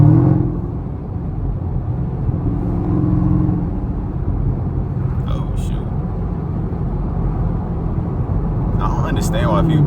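A Chevrolet Camaro ZL1 cruising in fog, heard from inside as a steady low engine rumble and road drone that holds fairly even throughout, with a voice present in the cabin.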